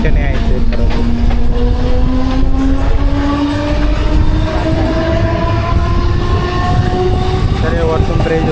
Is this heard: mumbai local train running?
yes